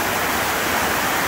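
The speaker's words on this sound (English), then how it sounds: "here we have a nice waterfall on the walking out from the Emerald Cove parking lot" A waterfall beside the walk out from the Emerald Cove parking lot pours in a loud, dense, continuous roar of falling water, close and unbroken, with no voices.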